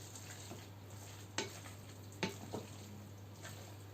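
Quiet stirring of an egg mixture in a pan with a few soft scrapes and clinks against a steady low background hum, no voices.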